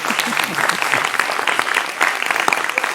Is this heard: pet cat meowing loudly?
no